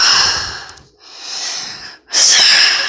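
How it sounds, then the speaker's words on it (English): Heavy, labored breathing from a weather broadcaster during live severe weather coverage: loud close-up gasping breaths drawn in and out, with two short pauses between, no speech. "Sorry about my breathing. Just need more breath."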